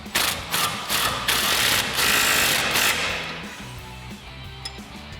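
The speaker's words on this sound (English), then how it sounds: "We'll go ahead and tighten this down using our 18mm socket on our impact and a 19mm wrench on the back side here to hold it in place" An impact wrench with an 18mm socket tightens a suspension nut on a Jeep Wrangler JK lift kit, hammering in several loud, rapid bursts that ease off into quieter rattles toward the end.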